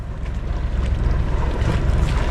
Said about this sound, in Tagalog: Yan na ang alon nila oh. Yung galing sa barika oh.